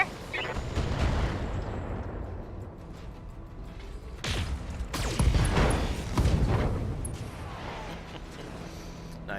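Mech weapons fire a multi-shot volley in the BattleTech video game: heavy booming blasts and cannon-like reports cluster mid-clip, with mechanical rumble around them.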